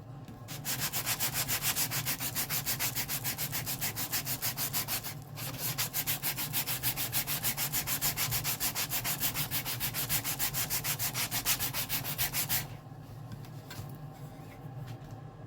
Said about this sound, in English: Now what we need to do is just give it a little bit of a sand.